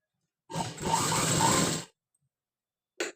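A sewing machine stitches the back part of a high collar neck in a close, whirring run of about a second and a half, then stops, followed by a short second burst after a pause.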